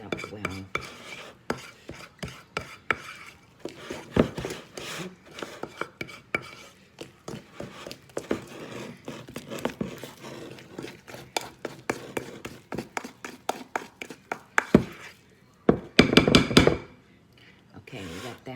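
Hush puppy batter being stirred in a bowl, a North Carolina recipe, with uneven clacks and taps of a utensil against the bowl, sometimes quick and dense, at close range.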